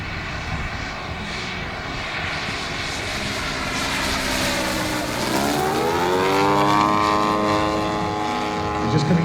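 A radio-controlled scale P-51 Mustang warbird, running on 14S, flies past at a model air show with a loud, rising and falling electric whine that sweeps in pitch as it comes toward the show line, while a commentator speaks.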